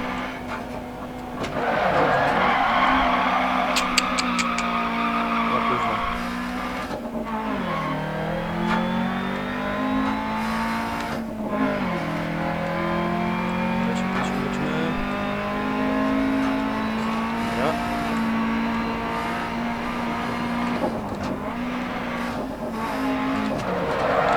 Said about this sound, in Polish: Hamujemy silnikiem.